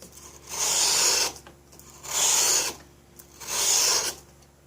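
A chisel is sharpened by hand in three long, even strokes, each a loud broadband rasping scrape with short quiet pauses between, close and alone with no voices.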